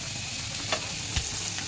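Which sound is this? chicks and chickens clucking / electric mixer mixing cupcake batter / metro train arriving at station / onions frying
onions frying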